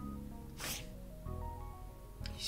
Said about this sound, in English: Sneezed.